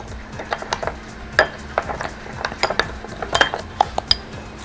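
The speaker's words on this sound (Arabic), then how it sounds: "واقلب الخليط ده مع بعضه كويس" A utensil stirs a soy sauce marinade for ribs in a bowl, giving quick, irregular clinks and scrapes close by with no talk.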